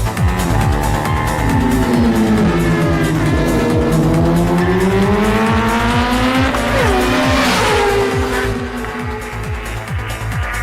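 Race cars in a movie racing scene roar past in an overtaking, engines rising and falling in pitch with rapid rhythmic pulses and a tire squeal, loud and close with no talk.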